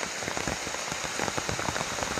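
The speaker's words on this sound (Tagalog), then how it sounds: "Sobrang lakas ng ulan." Heavy rain pours down in a dense, unbroken hiss of drops pattering hard on surfaces nearby, loud and steady throughout.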